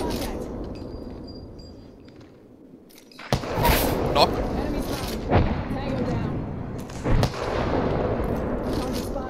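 Gunfire in the online shooter Apex Legends: loud bursts and booming impacts erupt over continuous game noise and background chatter, with a few sharp cracks standing out.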